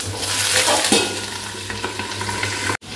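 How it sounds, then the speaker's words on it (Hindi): Potatoes and pointed gourd fry in hot oil with a steady, loud sizzle and occasional stirring scrapes, broken by a brief dropout near the end. "अब आलू परवल को मैं अच्छे से पहले भून लेती हूँ"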